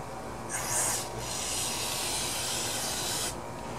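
Carburetor cleaner sprays onto a pressure washer's carburetor part in one continuous hissing burst lasting about three seconds, close and fairly quiet, with faint rubbing around it.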